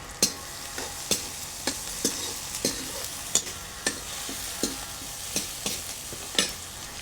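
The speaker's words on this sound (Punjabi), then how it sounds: "ਨਾਲ ਨਾਲ ਆਪਾਂ ਤੜਕੇ ਨੂੰ ਹਲਾਵਾਂਗੇ" A spoon stirs a sizzling tadka tempering in a pan for a Punjabi bean curry, regular scraping clicks every half second or so over a steady soft frying hiss.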